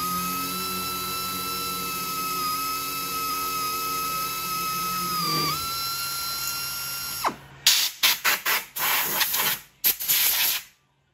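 Match drilling holes through the horizontal stabilizer support angle of a Vans RV-14 aft fuselage, clamped to its part: a steady high whine of an air drill running for several seconds, then a series of short drilling bursts.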